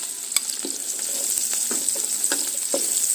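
Onion fries in rendered pork fat for adobo cooked outdoors, a steady bright sizzle with soft scattered crackles and light stirring clicks, close and continuous with no talk.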